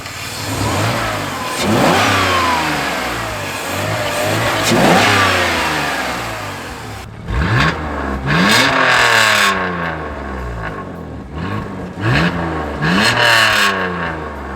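An older BMW engine, its centre exhaust hanger removed, revs repeatedly with rising and falling sweeps of throttle blips, loud and close, with no talk.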